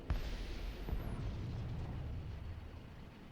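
A tank cannon fires during a War Thunder simulator battle. A single sharp, distant boom is followed by a long, low, rumbling decay, with a second softer thump shortly after.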